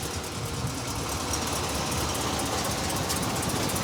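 A 1968 Cadillac hearse with a 472 engine idles close by, a steady, rough low rumble with no revving.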